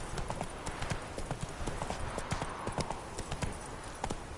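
Horse hooves clip-clop in The Witcher 3 in a quick, regular rhythm of sharp, close hoof strikes that continue evenly over a low background.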